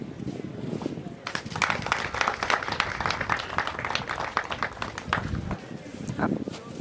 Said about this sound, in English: It is therefore time to applaud him